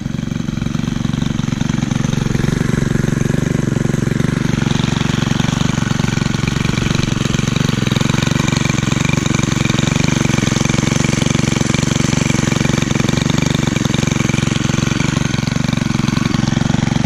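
A 2017 Stihl FS91R string trimmer engine runs steadily and loudly at close range, a continuous buzzing two-stroke drone with no break for over fifteen seconds.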